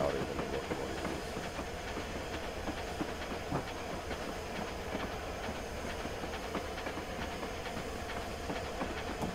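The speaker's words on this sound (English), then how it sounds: "The clickety clack is louder than the locomotive is." Rhythmic clickety-clack of wheels over rail joints from a Bulleid Q1 0-6-0 steam locomotive in the Train Simulator Classic game, steady repeated clicks over a soft hiss and low rumble, louder than the engine itself.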